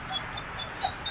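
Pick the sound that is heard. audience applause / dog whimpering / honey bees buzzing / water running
dog whimpering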